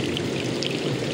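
Warm jacuzzi water churning and bubbling at a Boracay beach resort, a close, steady pouring and gurgling rush filling the short moment with no talk.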